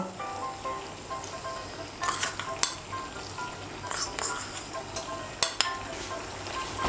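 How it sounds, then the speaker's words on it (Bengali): A spoon stirs half a cup of milk and sugar through Bengali sukto, a vegetable curry, in a pan, with a steady low scraping and soft sizzle broken by a few sharper clinks against the pot. "চিনিটা ভালো করে মিশিয়ে নেব"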